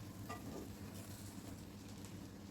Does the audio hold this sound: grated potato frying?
yes